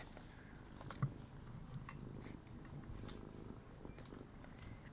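A house cat purrs close by, a soft, steady low rumble that runs the whole stretch, with one brief louder bump near the start.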